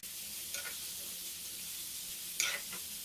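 Crushed ginger and garlic sizzle quietly in a pan for an egg masala gravy, with a low steady hiss and two brief scraping stirs of a spoon.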